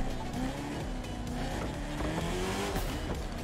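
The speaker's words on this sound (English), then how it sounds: "this car looks and sounds so mean" A car engine in The Crew 2 revs hard in a game race, its pitch climbing and dropping through shifts with some tire noise, steady and fairly loud with no talking over it.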